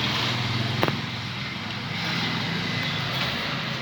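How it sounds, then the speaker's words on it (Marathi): Strong wind blows steadily outdoors by a cooking spot with a gas stove, a constant broadband roar with a brief gust-like knock near the start. "बाई वारं का सुटला समोर."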